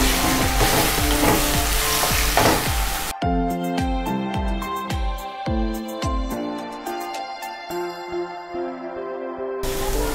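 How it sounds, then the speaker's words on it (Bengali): Fish paste hits a spice mix already frying in oil, setting off a loud, dense sizzle. After about three seconds, instrumental music with clear tones plays over the continued frying. "মশলাটা তেল ছাড়তে শুরু করে দিয়েছে, আমি এবার মাছের পেস্টটা এর মধ্যে দিয়ে দিচ্ছি।"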